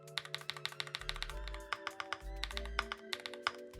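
Typing on a Pixelspace Capsule 65 mechanical keyboard with an FR4 plate and Durock POM switches, a quick close run of crisp clacky keystrokes with a few deeper thocks from the larger keys.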